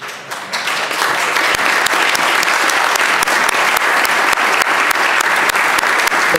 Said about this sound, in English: Applaud and congratulate them